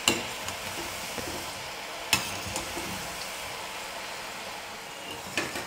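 Small balls of rice flour and raw potato bubble in oil over a medium flame, a soft continuous sizzle with a few sharp clicks and crackles scattered across it.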